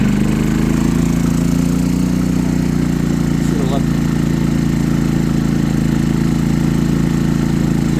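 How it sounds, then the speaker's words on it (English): A Firman WH03242 generator running on propane drones steadily and loud at first startup, its pitch dipping and surging briefly midway before settling back to an even hum. "Listen, it kind of goes through a whoop-de-doo."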